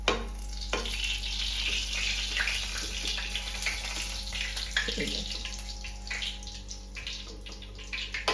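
A paratha fries in a pan with a continuous soft sizzle and occasional light scraping, close by and without speech.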